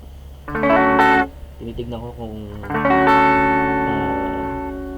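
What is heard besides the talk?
electric guitar through amp preset with super reverb IR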